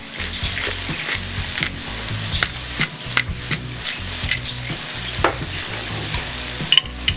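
A vegan pumpkin spice pasta sauce with garlic cooks in a pot, sizzling steadily while a spoon scrapes and stirs with irregular knocks against the pot, close and fairly loud with no talk.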